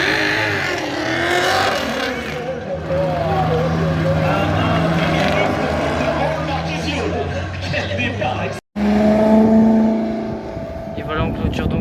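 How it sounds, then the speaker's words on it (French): Ferrari sports cars pulling away from the grid at the Val de Vienne racing circuit during a charity event, a steady loud engine drone with revving that swells and continues under crowd noise and talk, then a brief cut and resumes. "Ferrari de tête à démarrer"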